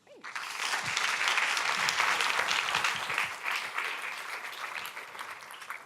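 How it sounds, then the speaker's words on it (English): Audience applause at an innovation showcase rises quickly and holds as a steady wash of many hands clapping for several seconds, then tapers slightly, with faint voices mixed in. "if you could give them a round of applause"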